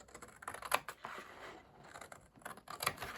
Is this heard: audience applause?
no